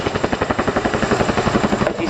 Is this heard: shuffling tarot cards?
no